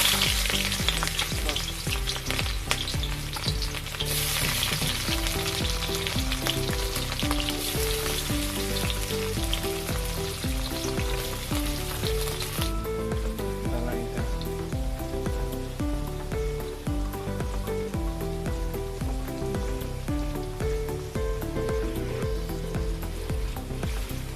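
Onions fry in oil in a kadai, a loud, dense sizzle that runs on without a break and shifts slightly partway through, heard up close with no one speaking.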